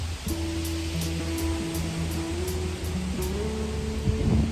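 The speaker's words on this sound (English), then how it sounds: "So sorry for the wind noise." Wind buffeting a microphone outdoors on a breezy day, a steady broadband rush with a faint low tone running underneath.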